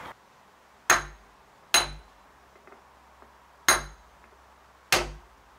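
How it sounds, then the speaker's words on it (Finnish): Hammer tapping a universal joint of a Mercruiser Bravo X sterndrive, five sharp metallic strikes spaced about a second apart, close and loud with brief ringing decay in a quiet workshop. "tai sitten koputetaan vasaralla"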